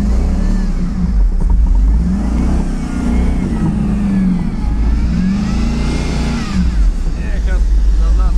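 A Hummer H2 engine revs hard and steadily as the SUV strains to move off-road, a loud rising and falling drone running throughout with people talking over it.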